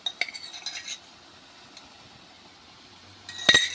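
A spoon stirs dhurum flower greens in a pan with crushed ginger, garlic and raw chili, making scattered light metallic clinks and scrapes. A quieter stretch follows, then a sharper clatter of utensil against pan at the end.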